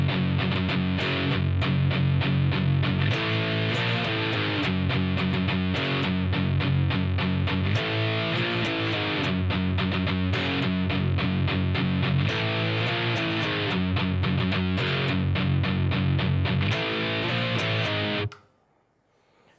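Distorted electric guitar plays a palm-muted downstroke riff, loud and steady with chugging rhythm for about eighteen seconds before cutting off abruptly.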